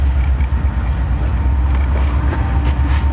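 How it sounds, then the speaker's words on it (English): Heavy rumble of a train with boxcars passing in the background, a steady low roar with faint creaks and clanks riding over it. "There's the train in the background"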